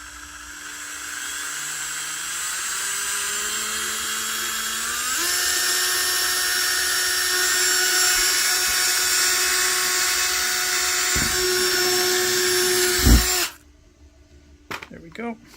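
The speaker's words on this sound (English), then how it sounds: "I'm just going to use it to drill one hole where I put my little green dot." A power drill fitted with a 1/8 inch bit bores a single hole in a dry box, its steady high whine stepping up in pitch partway through, then cutting off abruptly near the end and leaving quiet.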